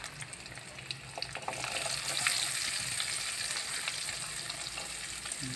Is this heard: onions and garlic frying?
yes